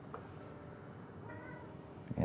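A cat gives a short meow in the Final Fantasy XIV video game, fairly faint over quiet ambient game sound, followed by a brief louder thump at the end.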